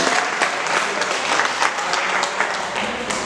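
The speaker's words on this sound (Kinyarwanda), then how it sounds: "Twakomera imana amashyi." A church congregation claps together in steady, dense applause that fills the whole stretch at a fairly loud, even level, with no voices standing out.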